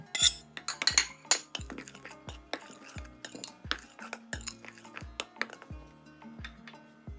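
Spoon clinking and scraping against a bowl while salt and chili powder are stirred into sieved gram flour, a steady rhythm of sharp metallic taps, close and clear with no talking.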